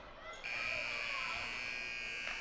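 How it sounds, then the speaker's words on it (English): Buzzer sounding to end the third quarter of a high school basketball game between Anderson County and William Blount, a loud sustained electronic tone lasting about two seconds over gym crowd noise. "And the buzzer barks. That's the end of the third quarter."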